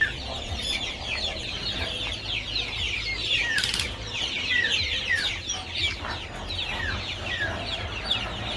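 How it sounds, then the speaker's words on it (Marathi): A flock of free-range village chickens in their night shelter clucks and chirps nonstop, with bursts of wing flapping, close and fairly busy, with no one speaking. "आम्ही आलो त्यामुळे बऱ्याचशा कोंबड्या खाली आल्या"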